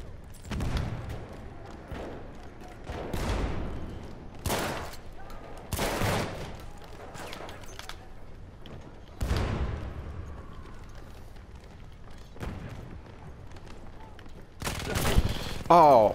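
Bursts of sentry kit machine gun fire, a Villar Perosa, in a first-person shooter video game: several short, sharp volleys spaced apart, some close and loud, with quieter rattles and background battle noise between them.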